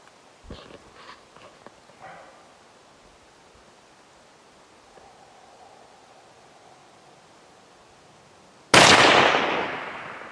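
Single loud rifle shot fired at an elk on a Wyoming elk hunt, sharp and close with a decaying tail, after quiet outdoor rustling and a few faint knocks.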